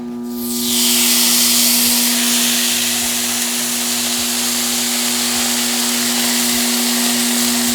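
Three strips of bacon hit a hot Temu electric griddle set near 350 degrees and burst into a loud, steady, hissing sizzle that holds unbroken for several seconds, with no talking.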